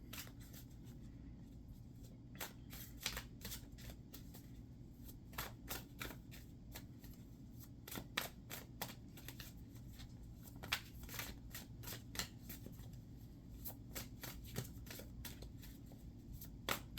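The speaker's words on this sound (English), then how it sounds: "Let's draw maybe one or two more cards" Cards are drawn and shuffled: a quiet, continuous riffle of soft papery flicks with scattered sharper clicks, close but faint, with no talk.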